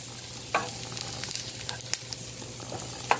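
Sausages frying in a pan, a steady close sizzle with a couple of sharper pops or utensil clinks near the start and end, no voices.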